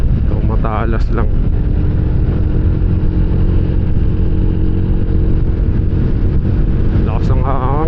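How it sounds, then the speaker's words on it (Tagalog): Strong wind roaring steadily across the microphone during a motorcycle ride from Manila to Mauban, Quezon, with engine rumble beneath and a voice briefly speaking near the start and end. "Lakas ng hangin."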